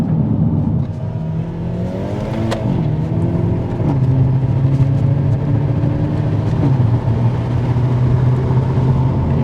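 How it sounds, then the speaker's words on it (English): A 2024 Hyundai i30 Sedan N Premium with dual-clutch transmission revs hard through gears on a twisty road, the engine note rising and briefly bouncing off the limiter before shifts, heard steadily from inside the cabin. "Bit of rev limiter there, Stu."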